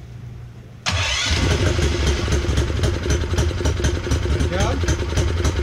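A car engine with a standard hot dog exhaust and a Stage 1 intake with a silicone coupler cranks and catches after a quiet start, then settles into a loud, steady, rumbling idle while a person briefly speaks over it.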